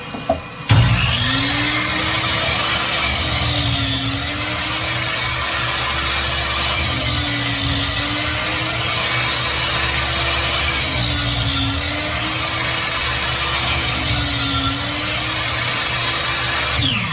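A power saw cuts wood while a shop vac dust collector runs, giving a loud, constant motor drone whose pitch dips briefly each time the blade bites into a cut, about four cuts in all.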